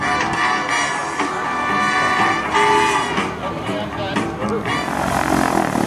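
A SIAI-Marchetti SF260 propeller airplane at an airshow gives a loud, continuous engine drone and roar with shifting pitch, heard up close beneath an announcer talking over the crowd.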